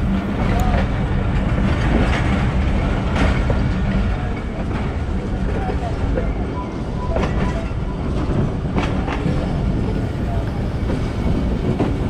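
Railway station platform ambience around the 129 Thal Express standing at platform 3 during water filling: a steady, dense mechanical hum and rumble with scattered clanks and knocks, fairly loud and continuous throughout.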